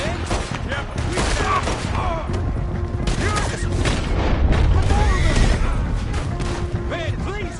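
Chaotic gunfire from a Red Dead Redemption 2 shootout, dense bursts and booms packed together under shouted voices, loud and continuous throughout.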